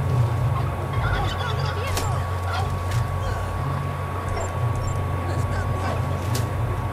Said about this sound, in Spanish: Ha matado al pavo.